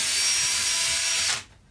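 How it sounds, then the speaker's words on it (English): A power drill runs at high speed while mixing material for a silicone and fiberglass mold of a clay sculpture, a loud steady whine that cuts off abruptly near the end. "Definitely spin off your drill"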